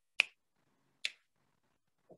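Finger snaps imitating a heart valve opening snap, three sharp isolated clicks in near silence: two crisp, loud snaps about a second apart, then a softer, duller one.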